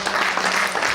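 A church congregation claps together in steady, dense applause, filling the space continuously throughout the short moment without a clear break.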